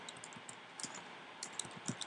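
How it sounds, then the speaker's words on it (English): Computer keyboard keys being typed on, producing soft, irregular clicks in short bursts, fairly quiet and close, with no voices present. "here again we can begin typing whatever we want"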